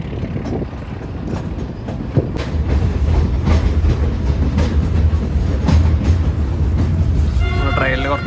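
A train runs through Goram Ghat in the Aravalli hills with a steady rumble and rhythmic clickety-clack of rolling wagons, held close and loud throughout, while people talk over it.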